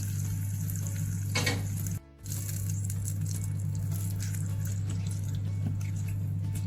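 Hot tempering poured into coconut chutney sizzles and crackles steadily and close by, with a brief drop partway through, for a healthy ragi and green gram dosa meal.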